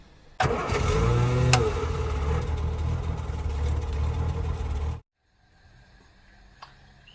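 A 1968 Riley Kestrel, a rare barn-find car, cranks and fires into a loud, rough-running engine for about four and a half seconds, then cuts off abruptly, leaving near silence with a faint click.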